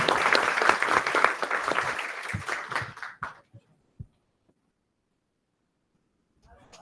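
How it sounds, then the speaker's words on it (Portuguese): A seated audience at a scientific meeting gives a burst of hand clapping after a presentation, lasting about three seconds before it tapers off into a few stray claps and silence. "Muitos aplausos para Mariana"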